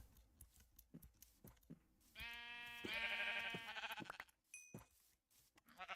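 Minecraft sheep bleat in the GregTech New Horizons modpack, two or three wavering bleats running close together and fairly loud, followed by a short chime-like tone amid quieter game clatter.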